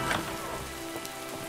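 Steady rain falls in Minecraft, a continuous soft hiss of drops with a few faint taps, moderately quiet and with no voices.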